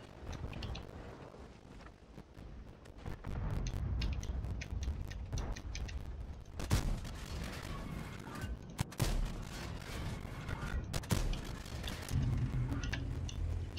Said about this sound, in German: Ich habe jetzt einfach mal drei Schuss reingehauen.